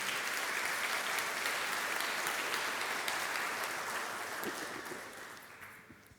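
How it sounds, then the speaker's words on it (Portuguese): A church congregation applauds together in a dense, sustained wash of clapping that holds steady for several seconds, then gradually fades toward the end. "Aplauda ao Senhor mais uma vez"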